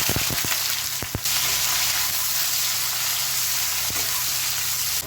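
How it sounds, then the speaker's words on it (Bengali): Chopped onions hit hot oil with chillies and bay leaf for a drumstick dal, giving a loud, steady broadband sizzle after a few sharp clunks at the start, continuous and close with no voices. "এবার দিয়ে দিচ্ছি পেঁয়াজ, কুচি করা পেঁয়াজ"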